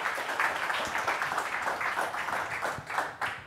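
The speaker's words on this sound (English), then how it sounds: "let's have a round of applause for Jasmine and Chris" A conference crowd at Commit Brooklyn 2019 applauds as two speakers are welcomed to the stage. The clapping is dense and continuous, filling the room evenly for a few seconds.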